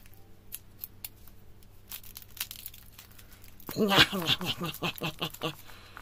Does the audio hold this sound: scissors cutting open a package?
yes